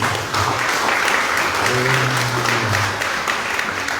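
Church congregation at a 25th founding anniversary gathering breaks into loud, sustained applause, a dense wash of clapping filling the room for several seconds with some voices underneath.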